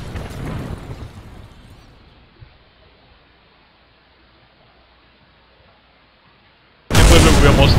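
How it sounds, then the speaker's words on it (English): Rockets crash and explode in Kerbal Space Program: a rumbling blast fades away into near silence, then a second loud, harsh explosion bursts in abruptly at the end. "And watch explosions."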